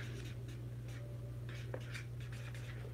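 Soft scratching strokes of a pencil on paper in short bursts over a steady low hum, quiet and close.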